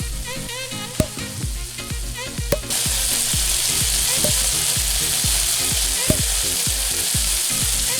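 An eggplant burger frying in a pan gives a loud, steady sizzle throughout, with a few sharp knocks of utensils against the pan near the start.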